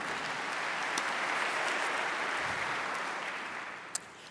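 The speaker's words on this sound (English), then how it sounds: "If you can give a round of applause for yourselves for being an amazing audience." Audience applause at a spoken word poetry event, a steady wash of many hands clapping at moderate distance, holding evenly for a few seconds before tapering slightly, with one sharp clap near the end.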